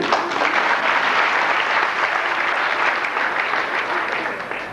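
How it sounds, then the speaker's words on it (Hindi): Enthusiastic applause from a large audience, dense and steady clapping that slowly tapers toward the end. "एक बार तालियां इनके लिए।"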